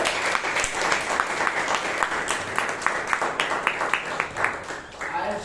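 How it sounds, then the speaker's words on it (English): A Toastmasters club meeting room fills with warm applause for the general evaluator, a dense round of clapping with individual claps standing out in rhythm, lasting several seconds with faint talk underneath. "Give her a big round of applause"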